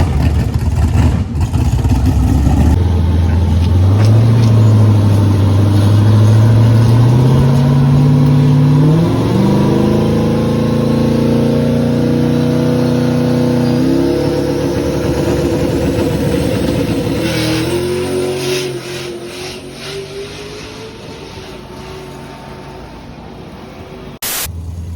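A big-power turbocharged Ford Mustang accelerates hard on its first pass, its loud engine note climbing steadily through the gears with brief breaks in the pull before the roar fades near the end.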